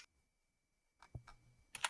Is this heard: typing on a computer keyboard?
yes